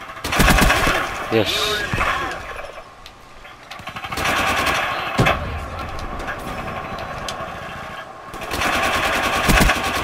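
An RPK light machine gun in Call of Duty Black Ops 3 fires in sustained bursts of rapid rounds, loud and close, with someone talking over the gunfire.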